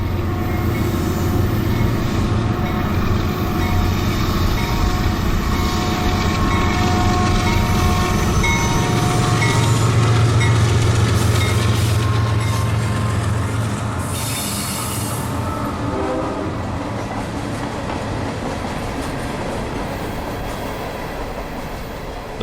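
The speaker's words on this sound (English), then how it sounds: "The train is EO40, empty coal hoppers out of Tampa's Big Bend power plant." A freight train of empty coal hoppers rolls past close by, loud steady rumble and clatter of wheels, with metallic squeal rising midway before easing.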